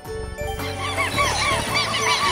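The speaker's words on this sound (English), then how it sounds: "birds." Geese give loud, close, repeated honks in a quick cluster of nasal calls.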